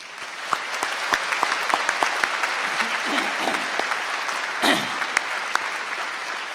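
Audience applause at a university commencement ceremony, a sustained, evenly spread clapping from a large crowd with a few sharper individual claps standing out, continuing for the whole stretch.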